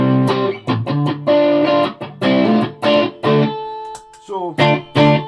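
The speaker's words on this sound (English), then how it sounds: "Just loving the sound of this guitar." An electric guitar played through a Caline Pure Sky overdrive pedal, giving loud, close, mildly distorted chords and riffs in short bursts with brief pauses and a sustained note near the end.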